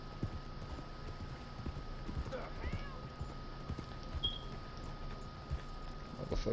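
Horse hooves clip-clopping along a road in Red Dead Redemption 2, a quiet irregular walking rhythm of hoofbeats with a faint steady hum behind, and someone talking at points over it.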